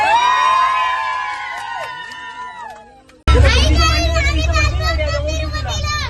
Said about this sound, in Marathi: जेव्हा सगळी एडी माणसं एकत्र येतात तेव्हा असाच गोंगाट होतं.